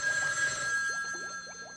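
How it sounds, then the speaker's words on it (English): A telephone bell rings steadily and loudly in a spooky comedic setting, its tone coming from inside a cauldron, with no talk over it. "Oh, the phone is ringing."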